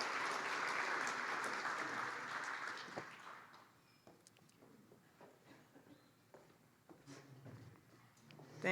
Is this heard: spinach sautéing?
no